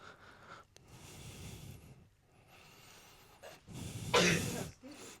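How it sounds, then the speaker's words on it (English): A person sneezes nearby, with breathy snorts and a louder burst near the end, set against quiet room noise. "There she is, sneezing."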